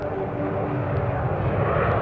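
Jet aircraft passing overhead, a steady broad engine roar that fills the whole stretch at a constant, fairly loud level with no voices.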